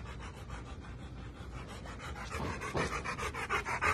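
A puppy pants quickly and steadily while carrying its leash back, the breathing growing louder and closer toward the end.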